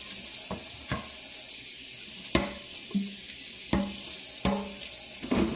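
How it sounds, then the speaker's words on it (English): A dish is rinsed under a running kitchen tap while cooking a breakfast tortilla bake, a steady close water stream broken by several sharp splashes and clinks as the item moves through the flow. "I'm going to rinse this because I'm going to use it for my cheese."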